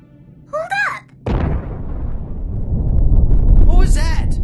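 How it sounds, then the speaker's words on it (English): An explosion at the bottom of a crater in an anime erupts suddenly with a deep, sustained rumbling roar that swells and holds, with short voices before and after it. "An explosion."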